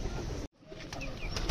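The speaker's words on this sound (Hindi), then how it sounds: "अपने कबूतर भूखे हुए तो इनको ओपन करते हैं" Pigeons at a pigeon coop, with a rustle of movement cut off by a brief silence, then faint cooing and chirpy calls at close range.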